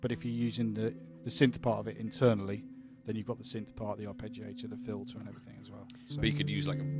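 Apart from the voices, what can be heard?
None of the usual background noises is heard.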